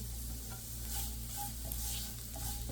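Grated carrot fries in a pan with oil, making a steady, close sizzle with faint stirring scrapes and small crackles.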